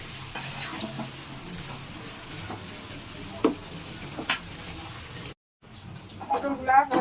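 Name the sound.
frying pointed gourd (potol) in a pan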